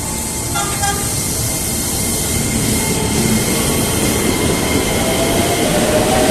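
A Chinese-made commuter train on the Depok to Bogor line rumbles steadily from inside the carriage, with continuous loud wheel and track noise and faint high squeals.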